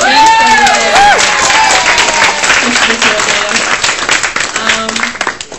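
An audience at a writers' festival claps loudly and continuously, a dense burst of applause that gradually thins and fades toward the end, with a few voices mixed in.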